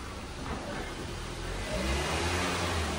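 A car engine is revved from idle, rising in pitch and loudness near the end, close and steady over about three seconds with no talk.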